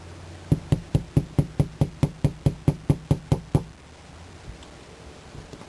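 A small hammer taps sharply about fourteen times in a quick, even rhythm while fixing a leaky RV window, then stops, leaving quiet room noise.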